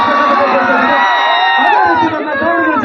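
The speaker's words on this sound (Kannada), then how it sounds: "ಜೋರಾದ ಚಪ್ಪಾಳೆಯೊಂದಿಗೆ" A crowd cheers and shouts loudly and continuously at a store opening event in Davanagere, with whoops rising over a dense, steady roar of voices.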